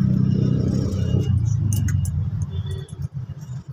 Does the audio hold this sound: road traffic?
yes